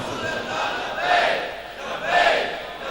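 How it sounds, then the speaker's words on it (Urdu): A crowd at a religious gathering chants slogans in two loud swelling call-and-response waves, voices surging together then fading between shouts. "یہ جو نعرے ہوتے ہیں بڑے پیارے ہوتے ہیں"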